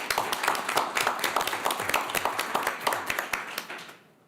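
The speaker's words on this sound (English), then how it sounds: "And if you could just give her a round of applause." Audience applause at a school board of education meeting: a steady, lively round of clapping from many hands that fades out near the end.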